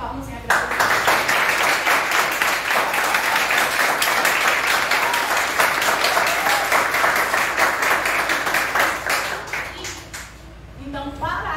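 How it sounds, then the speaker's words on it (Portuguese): Audience applause at a lecture, with loud, dense clapping from a room full of people that starts abruptly, holds for about ten seconds and then fades as a voice resumes. "Uma salva de palmas em agradecimento."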